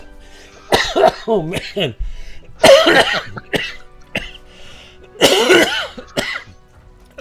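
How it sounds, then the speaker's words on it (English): A man coughs in several harsh, chesty bursts, a short coughing fit close to the microphone, with brief spoken words between the coughs. "I'm so sorry about the cough attack"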